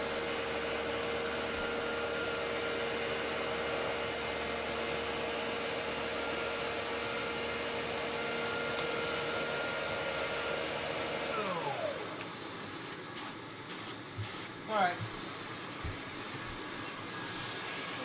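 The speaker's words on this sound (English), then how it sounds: "I come over here and vacuum along the edge of my wall" A 1960 Electrolux Automatic Model G vacuum cleaner with a power nozzle runs with a steady, whooshing motor drone and airflow hiss, then shifts lower and rougher near the end as it is moved along a wall edge.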